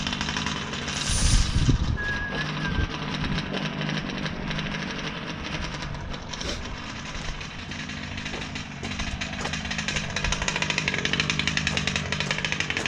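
Losi 5B gas-powered RC car engine idling after about fifteen minutes of running rich, a steady buzzing drone holding level throughout with no talk over it.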